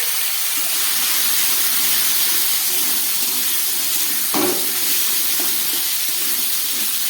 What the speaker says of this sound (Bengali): এবারে আমি এই মূলো, আলু আর পেঁপেটা একটু ভেজে নেবো